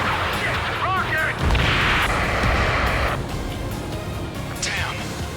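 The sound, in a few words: missile and rocket explosions in video game Ace Combat 7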